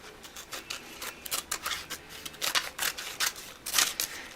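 Scissors snipping away excess material around a hide, a quick run of close, crisp cuts and rubbing strokes in an uneven rhythm, with no voices.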